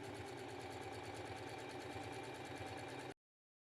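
A sewing machine runs steadily, stitching close to the edge of a quilted crossbody tote bag to close the lining opening, with a continuous motor hum and rapid needle rhythm for about three seconds before stopping abruptly.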